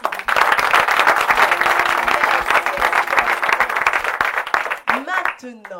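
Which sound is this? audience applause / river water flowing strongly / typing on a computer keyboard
audience applause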